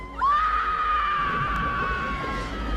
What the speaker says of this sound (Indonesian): ibunya pun teriak histeris setelah melihat anaknya tewas